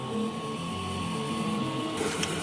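A 3D printer runs inside an upside-down plastic tub used as an enclosure, giving a loud, steady mechanical whir with tonal stepper-motor hums and a few brief clicks near the end, with no talk.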